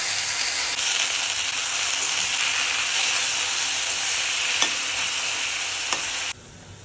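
Pumpkin greens hiss and sizzle loudly in a hot frying pan with dried chili, garlic and green chilies, a constant close frying roar broken by a couple of stirring scrapes before dropping off abruptly near the end.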